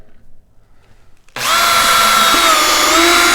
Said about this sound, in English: put a 1/8 inch brad point bit into the drill